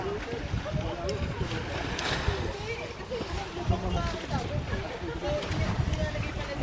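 A boat ride across rough sea to Corregidor Island: a steady rumble of engine and churning water mixed with gusty wind buffeting the microphone, with faint voices in the background.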